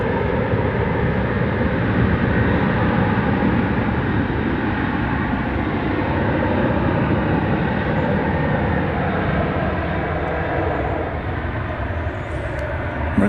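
An American Airlines Boeing 737-800 jet departing DFW for Los Angeles makes a loud, steady, broadband roar that holds without a break for about thirteen seconds, with no voices.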